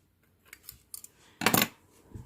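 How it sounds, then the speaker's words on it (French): Scissors snip through blue crochet yarn up close: a few light metallic clicks, then one sharper, louder cut and a soft final click, all quiet and alone. "je vais couper le fil bleu"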